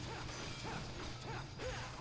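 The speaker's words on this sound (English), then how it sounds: "Smashing that statue." A statue smashed in the Devil May Cry 3 video game: a dense, loud crashing and grinding clatter that runs continuously through the whole short moment.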